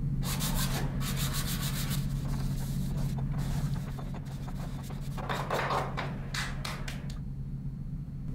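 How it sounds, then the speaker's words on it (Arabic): Fine sandpaper rubbed by hand over a small wooden phone stand, giving close, repeated scratchy strokes in an uneven rhythm over a low background hum. "نلف عليها صنفرة ناعمة وناخد الحامل كله وشين صنفرة"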